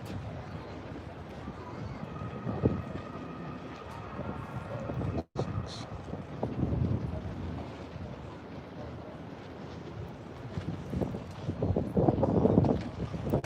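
Wind buffets a microphone outdoors along the Lower Manhattan waterfront, a low rumbling roar that rises and falls throughout, with faint city ambience beneath.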